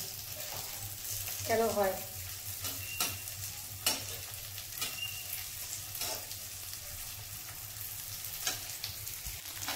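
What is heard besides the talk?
frying bitter gourd in a wok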